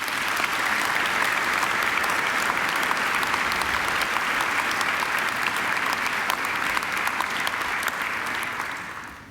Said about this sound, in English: She deserves another great round of applause.